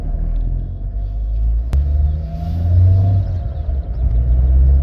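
A simple Renault convertible cruises in summer with a low, steady engine rumble and road noise, recorded from inside with the top down, a faint swell of acceleration midway and no talking.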